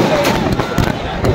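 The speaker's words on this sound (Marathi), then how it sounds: "फटाक्यांची आतिषबाजी।" Fireworks crackling and bursting in quick irregular pops at a midnight celebration in a square in Latur, with voices mixed into the noise.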